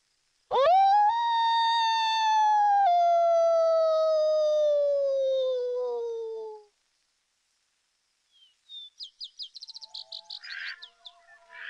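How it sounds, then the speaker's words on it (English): Wild canines howl at sunset: one long, loud, wavering howl that slowly falls in pitch, then after a pause a series of quick, higher yipping calls. "They howl at sunset, and sometimes you just feel compelled to join in."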